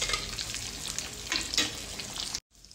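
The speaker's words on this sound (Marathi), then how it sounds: "आता सगळे वडे मी असे तळून घेते" Vada fritters deep-frying in hot oil, a loud close bright crackle and hiss with bursts of spattering, cutting off abruptly near the end to a quieter sizzle.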